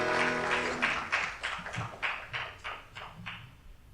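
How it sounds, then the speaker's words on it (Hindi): An audience gives a steady round of clapping in a hall at a talk event, welcoming a speaker, with the applause breaking into rhythmic pulses and slowly fading. "थोड़ी जोरदार तालियां तो बताने की जरूरत ही नहीं है, आप तो वैसे ही बजा देते हैं।"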